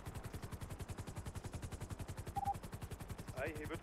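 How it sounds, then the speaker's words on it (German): Rapid bursts of automatic gunfire from a shooter video game fill the clip with a dense, even rhythm of cracks, and a brief voice sound breaks in near the end. "Ey, hier wird geschossen."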